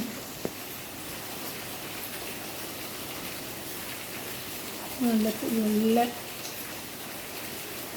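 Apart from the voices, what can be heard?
rain falling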